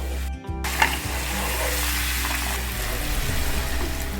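Peeled boiled eggs fry in hot oil over a stove, producing a loud, close, steady sizzle after a brief dip at the start as they drop into the pan.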